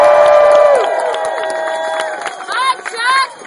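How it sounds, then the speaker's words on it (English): Outdoor protest crowd at an Occupy DC march on Bank of America cheering and clapping, with whoops and shouts over a noisy street; loud, close and busy for a few seconds. "Let's give her a round of applause."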